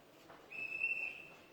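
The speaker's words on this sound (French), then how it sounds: "demande au petit là d'arrêter le sifflet là" A single steady high-pitched whistle blast lasting about half a second, fairly faint against a quiet background.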